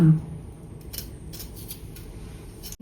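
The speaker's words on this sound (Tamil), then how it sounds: "இந்த வெங்காயத்தை நல்லா தோல் உரித்து கட் பண்ணிவிட்டு" Onions are peeled and chopped with a knife in a home kitchen, giving a run of soft, close cutting and scraping sounds with a few sharper clicks near the end and no talking.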